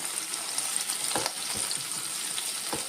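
Onion sizzles gently in a pan of hot oil, a constant soft hiss broken by a few quick scrapes of a spoon. No voices are heard.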